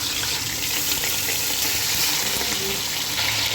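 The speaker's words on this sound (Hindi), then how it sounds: "चिकन डाल के हम ऑयल के अंदर फ्राई कर लेंगे, इसको भून लेंगे।" Chicken pieces frying in hot oil in a pot for chicken karahi, a loud, steady hissing sizzle that fills the whole stretch without pause or voices.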